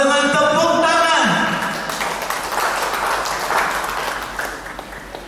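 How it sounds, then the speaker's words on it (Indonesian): Audience applause welcoming guests at an Indonesian ministry event, a broad wash of clapping that follows a voice and music at the start and then fades slightly while continuing steadily. "Mari kita sambut dengan tepuk tangan"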